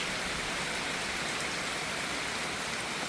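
Heavy rain pours down steadily, a dense, unbroken roaring hiss that stays close and loud for the whole stretch, with no voices.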